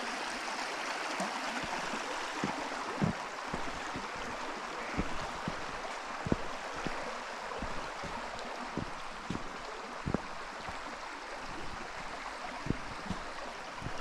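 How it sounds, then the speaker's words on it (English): Shallow stream water trickles steadily over a woodland bed beside a fallen tree, a continuous close babble with small irregular splashes and gurgles throughout, no voices. "listen to that lovely trickling sound"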